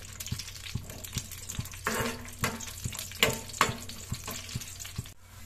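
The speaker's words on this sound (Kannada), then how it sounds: "ದ್ರಾಕ್ಷಿ ಗೋಡಂಬಿ ಫ್ರೈ ಆಯಿತು." Cashews and raisins fry in ghee for poha laddu, a soft crackling sizzle under regular light taps and a couple of louder scraping stirs, close by with no speech.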